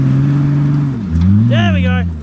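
A 4x4 engine roars loudly and steadily as the vehicle pushes into a muddy bog at an off-road session, the pitch sagging and then climbing again, with a voice calling out over it.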